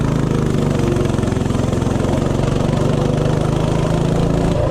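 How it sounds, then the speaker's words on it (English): A Predator 224 small engine with a VM22 carburetor, header pipe and the external governor removed runs loud and close with a steady, rapid throbbing exhaust beat, without talk. "With the Predator 224, with a VM22 carb, header pipe, and the external governor removed"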